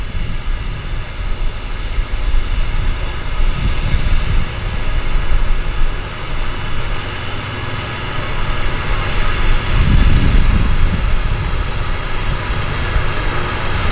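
Seaplane descending to land on a harbour waterway, a steady droning propeller engine heard from a distance with broad rumbling swells, no talk.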